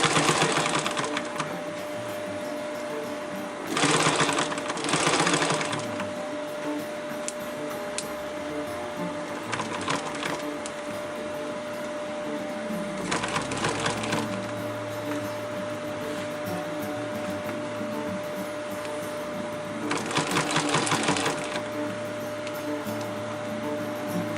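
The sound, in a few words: sewing machine stitching padding of a rollup backpack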